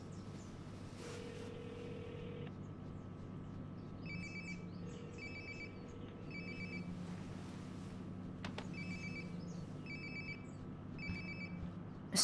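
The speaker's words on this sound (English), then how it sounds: "Sounds like my phone is definitely nearby." A mobile phone rings in the video game Life is Strange: Before the Storm, repeating short electronic ringtone bursts in an even pattern over a low ambient hum, fairly faint and with no talking.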